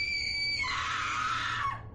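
A woman lets out a sustained, high-pitched scream of terror in a dramatized gothic horror tale, loud and alone for about two seconds before cutting off abruptly.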